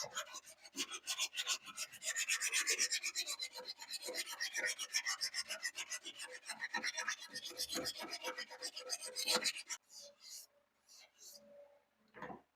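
Hand sanding on the body panel of a 1984 Chevrolet Scottsdale truck being prepped for paint: a steady, close scratchy rasp of repeated short strokes that runs continuously, then breaks into a few separate scrapes near the end.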